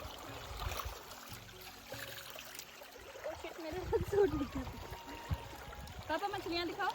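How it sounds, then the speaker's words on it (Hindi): Cold, clear water from a mountain stream in Almora, Uttarakhand, rushes and gurgles steadily in the background while people talk over it for most of the stretch. "देखिए पहाड़ों से निकलता हुआ पानी एकदम ठंडा और इतना क्लीन वाटर है इसका।"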